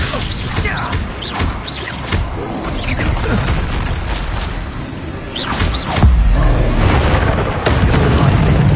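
Repeated Confringo blasting-spell explosions in the Hogwarts Legacy video game, loud booming bursts amid dense battle effects, with a heavier low rumble near the end.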